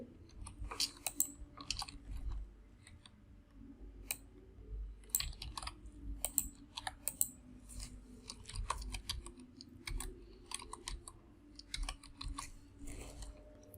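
Computer keyboard typing as a user ID, password and captcha code are entered to sign in to a digital service, with irregular bursts of close, crisp key clicks over a low background hum.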